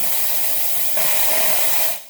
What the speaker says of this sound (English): Dispense some steam out of the steam valve.